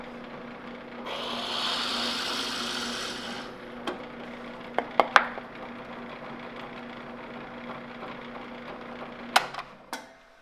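Hand sawing of a teak offcut for a swim platform repair: a steady, rasping broadband stroke for a few seconds near the start, followed by a quieter stretch broken by sharp knocks and clicks, all close and without talk.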